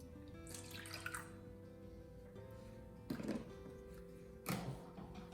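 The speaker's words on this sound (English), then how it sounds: "I'm gonna do 1 cup of milk." Whole lactose-free milk poured from a container into a bowl for waffle batter, a steady liquid splash with a couple of brief louder gurgling surges, close and alone over quiet kitchen background.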